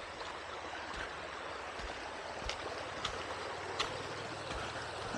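A stream at a campsite in Sta. Maria, Laguna, running with a steady soft wash of flowing water, fairly faint and continuous, with a few small splashes or knocks and no voices.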